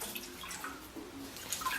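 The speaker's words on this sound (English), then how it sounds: "if you just want to get some water into the unit at the top" Water poured into the top chamber of a gravity water filter unit during cleaning, a steady soft splashing and trickling that runs throughout, fairly quiet and close.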